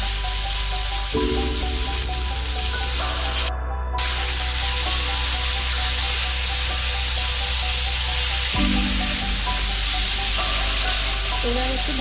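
Drained vegetables salted and tossed with turmeric, frying loudly in a pan with a strong continuous sizzle and intermittent stirring, alongside a steady low hum and a brief pause midway.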